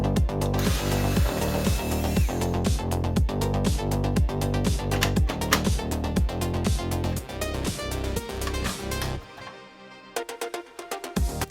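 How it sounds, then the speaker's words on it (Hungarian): Case screws of a Sega Mega Drive II console being undone: a fast, steady train of close, sharp clicks that runs for about nine seconds, then thins out to a few scattered ticks. "Mindössze 4 csavar fogja össze a házat, így ezek kicsavarásával kezdtem."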